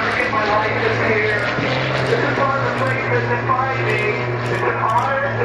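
An aerobatic plane flies over the runway at Van Nuys during an airshow, its propeller engine droning steadily and loudly, with a public-address announcer talking over it.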